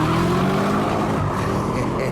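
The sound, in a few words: Chevrolet Camaro 6.2-litre V8 accelerating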